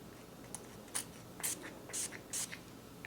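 Several short, quiet hissing sprays of Tom Ford Ombré Leather Parfum onto skin in quick succession over a faint background hiss, with no talking.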